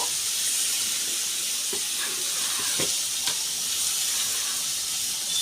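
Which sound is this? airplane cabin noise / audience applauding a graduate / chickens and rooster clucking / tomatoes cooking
tomatoes cooking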